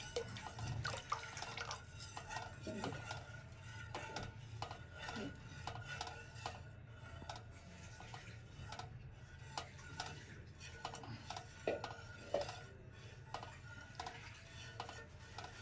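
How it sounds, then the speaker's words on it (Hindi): Hot milk being stirred in a pot after vinegar goes in for rasmalai, with repeated soft scraping and clinking of a spoon against the pan, steady and close throughout. "अब ये इसके अंदर हम शामिल करेंगे और इसको हिलाते जाएंगे।"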